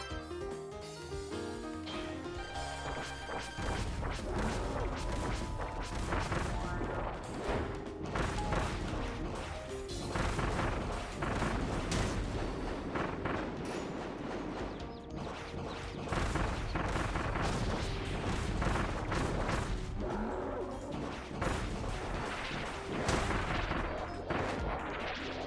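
Kirby's Chain Bomb ability in Kirby and the Forgotten Land sets off bomb after bomb in a video game, a loud, continuous barrage of booming blasts and crashes layered over game sound.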